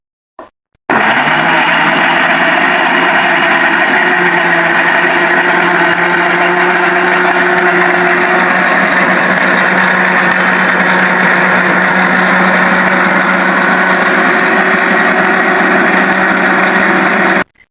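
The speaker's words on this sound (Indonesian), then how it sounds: "Sekarang kita haluskan dulu ya Bun bawang merah sama bawang putih ya Bun" An electric blender grinds shallots and garlic, a loud, steady motor whine that starts abruptly and runs unbroken for about sixteen seconds before cutting off.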